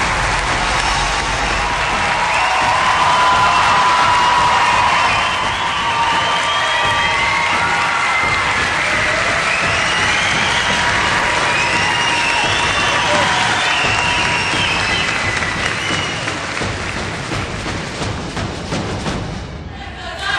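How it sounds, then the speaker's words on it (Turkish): A television talent show audience at The Voice Turkey (O Ses Türkiye) applauds and cheers loudly as Mustafa Sandal's team takes the stage, with shouts over sustained clapping that thins toward the end. "Alkışlıyoruz."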